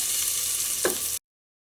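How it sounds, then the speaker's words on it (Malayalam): Ginger, garlic and green chili paste frying in oil inside a pressure cooker gives a steady, close hiss of sizzling with one brief scrape near the end before the sound cuts off abruptly. "ഈ ഓയിലിൽ കിടന്നിട്ട് ഒന്ന് നന്നായിട്ടൊന്ന് മുരിഞ്ഞ് വരട്ടെ"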